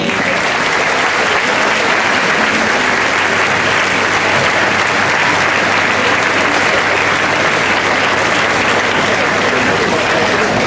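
An audience at a town festival promenade applauds, dense sustained clapping filling the space loudly and evenly throughout.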